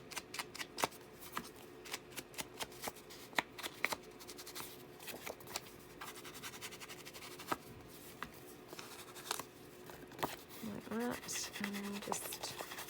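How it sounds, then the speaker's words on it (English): Ink being dabbed and rubbed around the edges of fabric pieces for handmade fabric tags, heard as quiet, close scratchy strokes and taps in an irregular rhythm throughout. "I will just ink around that fabric as well, just like we have on the others."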